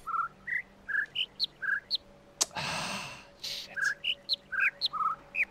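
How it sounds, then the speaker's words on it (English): Bird chirps from the video game The Witness: short, bright tweets repeat in a quick, even series, briefly broken by a burst of breathy noise before the chirping resumes. "Oh, these birds!"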